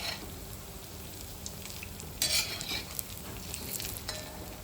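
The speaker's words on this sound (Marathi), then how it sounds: "बारीक गॅसवरती तळायचे आहेत, नाही तर आतमध्ये ते कच्चे राहणार." Vegetable cutlets fry in a pan of oil over a low flame, giving a soft continuous sizzle, with a few brief louder crackles and a spatula scrape as they are turned.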